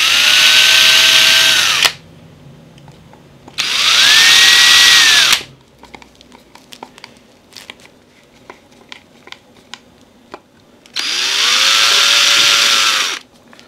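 A power drill drives screws into a wooden two-valve radio case, with three loud whirring bursts of about two seconds each, the motor pitch dropping as each screw seats, and quiet handling clicks in between.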